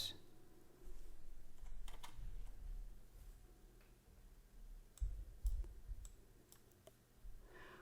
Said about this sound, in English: I type rust in search field